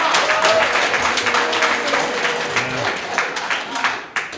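An audience at a recovery celebration claps in a dense, steady burst that gradually thins out, with a few voices mixed in.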